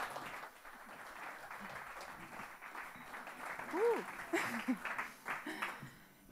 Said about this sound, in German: Herzlichen Applaus für Unity Art.